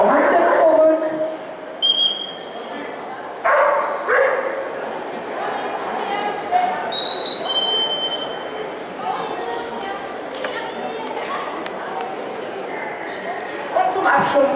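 Hunting dogs bark repeatedly at a hunting-dog event, several yelps and barks spread across the scene with people talking and crowd noise throughout.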